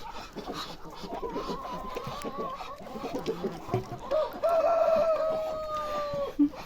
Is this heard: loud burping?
no